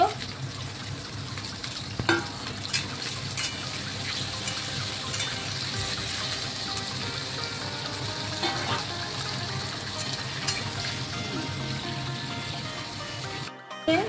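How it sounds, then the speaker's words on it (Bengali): Potatoes frying in hot oil, a continuous close sizzle and bubbling hiss with faint scraping, steady throughout and free of talk. "আমার তেল গরম হয়ে গেছে, আমি আলুটা ভেজে নেব।"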